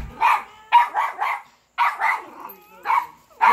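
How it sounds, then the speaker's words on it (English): A dog barks at a door in short, near, repeated yaps and yips with brief pauses, excited and alone without talk. "She's barking at the door that he's going to come out of."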